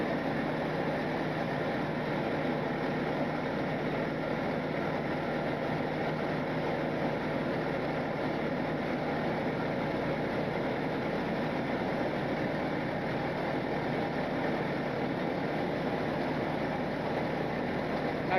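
A tank engine running at a restoration shop, a steady loud broadband rumble that holds constant throughout with no breaks or changes in pace.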